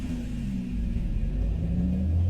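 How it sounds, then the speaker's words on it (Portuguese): A car engine rumbles low and steady nearby, its drone rising slightly as it pulls away down a dark road, with no one speaking. "o carro na minha frente ligou e começou a acelerar através da estrada"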